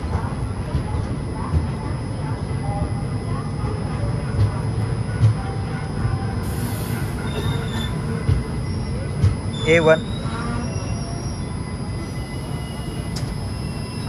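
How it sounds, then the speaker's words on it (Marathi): The Tirupati to Guntur express, train 17262, slows into a station with a steady low rumble and a brief high wheel squeal near the end. A person talks over it. "आणि हळूहळू स्लो झालेली आपली ट्रेन या ठिकाणी."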